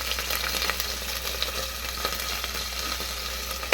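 Browned onions fry with chili powder and turmeric in a pan for tomato rice, giving a continuous close sizzling hiss with light stirring crackles throughout and no voices.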